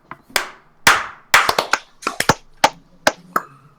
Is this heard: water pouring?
no